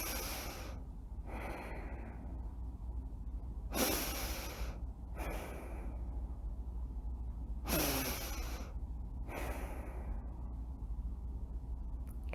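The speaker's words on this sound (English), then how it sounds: "we'll do 3 breaths, in through our snout and out through our snout" A group takes slow breaths in and out through the nose during a guided meditation, each breath a soft, airy rush rising and fading in a calm, even rhythm over low background hum.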